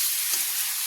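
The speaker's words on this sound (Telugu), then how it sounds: "చిక్కుడుకాయ పచ్చి వాసన పోయేలాగా కొంచెం ఫ్రై చేసుకోవాలి." Broad beans (chikkudukaya) fry in a pan with a steady close sizzle and crackle, a brief stir audible partway through, no voices.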